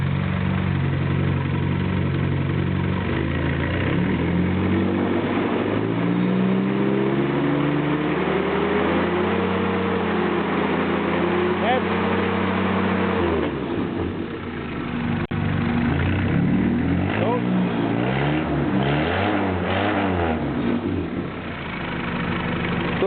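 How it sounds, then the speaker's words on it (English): A Willys L134 four-cylinder rebuilt on an Allied reproduction block runs steadily nearby, its low idle rising and falling through several rev swings before settling, loud and continuous with no talking. "So that's an L134 with a allied block"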